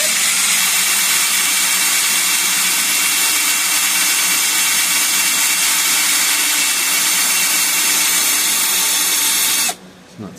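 A power drill spinning a carburetor throttle arm whirs steadily at high speed for about ten seconds, loud and close, then cuts off abruptly near the end.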